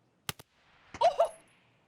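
Gunfire in the video game Escape From Tarkov: two quick, sharp shots close together, then a brief noisy burst of crackling impact and movement sounds that fades fast.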